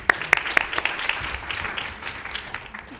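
An audience claps in welcome for a speaker at a presentation on workplace accommodations for dysautonomia. Several sharp, close claps open a spread of steady applause that thins gradually.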